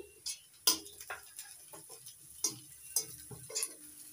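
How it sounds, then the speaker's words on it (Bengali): Onion, garlic and chili frying in a pan, faint sizzling under intermittent scrapes and clicks of a spoon stirring against the metal, quiet and close with no talking. "পেঁয়াজ, রসুন, লঙ্কা সব একসঙ্গে ভেজে নিব"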